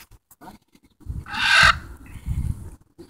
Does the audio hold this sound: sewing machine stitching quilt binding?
no